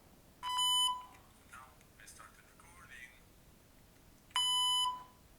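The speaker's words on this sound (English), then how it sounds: "you can probably hear the beep" Two short, clear electronic beeps from a Zoom H1n audio recorder, several seconds apart, with faint soft murmuring and rustling in between.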